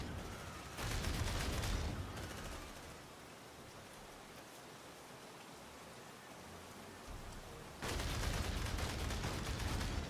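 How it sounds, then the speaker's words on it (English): Automated turrets firing in Aliens: Dark Descent, coming as bursts of rapid shots that start, stop and start again. They sound fairly faint over a constant hiss of background noise. "let's let the turrets do the shooting"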